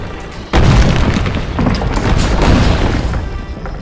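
A castle under siege in Stronghold Crusader, with one loud sudden boom and crash followed by rumbling debris and further heavy impacts that carry on to the end.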